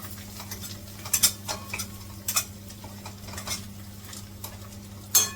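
Drumsticks sautéing in oil in a pan, with a soft sizzle under intermittent scraping and clinking of a spoon against the metal pan, several sharper clanks spread across the clip.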